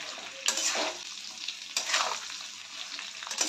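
Mango pickle with salt and turmeric is stirred in a pan, a low sizzle punctuated by three or four scraping strokes at a loose, unhurried rhythm; nobody talks.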